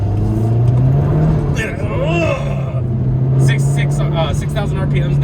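Mazda Mazdaspeed3 turbo engine holding a steady drone near 6,000 rpm on a canyon road, loud and continuous with shifting pitch, road and wind noise underneath and a voice speaking over it.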